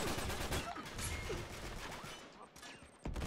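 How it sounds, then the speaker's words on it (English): Gunfire in the Uncharted 3 game, a rapid burst of shots and clattering impacts, mid-distance and somewhat muffled, with a voice talking over it and one sharp crack near the end. "I just got shot through the wall."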